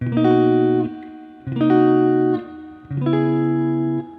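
Three sustained guitar chords ring out one after another, each held about a second with a short gap, the lowest note stepping between them in a chromatic bass line, moving between minor 7 flat 5 and half-diminished chords.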